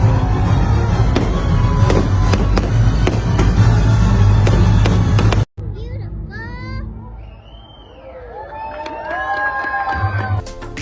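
Fireworks burst at a party aboard the Disney Fantasy cruise ship, loud crackling booms over a cheering crowd and children's voices, then a quieter stretch of distant pops and whistles under chatter.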